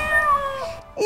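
A single drawn-out cat meow, close and clear, wavering in pitch before trailing off.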